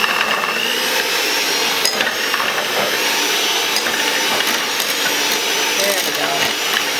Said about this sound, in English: here I am just with my little electric hand mixer